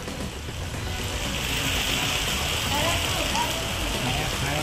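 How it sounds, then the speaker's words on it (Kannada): Heavy rain pours steadily during a thunderstorm around Koppal, a dense continuous hiss of falling water holding even throughout, close and loud, with no distinct thunderclap standing out. "ಗುಡುಗು ಸಿಡಿಲು ಸಮೇತ ಉತ್ತಮ ಮಳೆಯಾಗ್ತಾ ಇದೆ."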